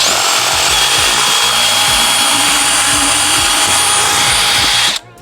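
A power drill with an attachment fitted runs loud and steady at close range for about five seconds, then cuts off abruptly near the end, with no talking over it.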